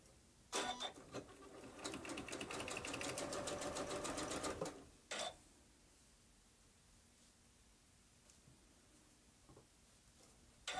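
A sewing machine stitches a churn dash quilt block in one steady, loud run of about four seconds, then stops, leaving a few short clicks and quiet room tone.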